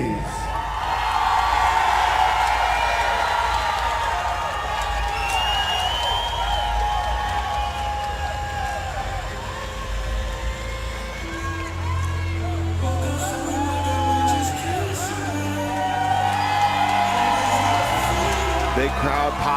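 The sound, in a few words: crowd cheering for fighter Ray Hayes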